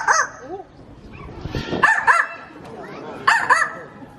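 A zoo animal in Ontario, Canada imitating a dog's bark, giving a few short, yippy barks and whimpering calls in separate bursts, close and moderately loud.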